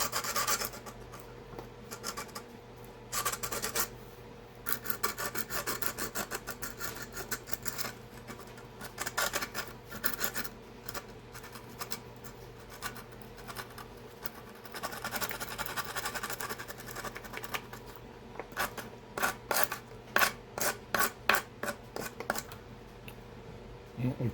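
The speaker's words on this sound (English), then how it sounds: "Clean the tip off a little bit here. Just take some sandpaper" Sandpaper rubs back and forth over a metal tip in quick, rasping strokes, close and fairly steady, with bursts of faster scrubbing near the end; a voice speaks briefly in between.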